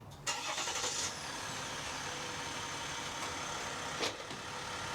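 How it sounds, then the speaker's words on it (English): A truck engine idles and rumbles steadily as the truck pulls away from an Airstream trailer after unhitching, with a sharp mechanical clunk near the start and another toward the end. "now the next step is to pull the truck away"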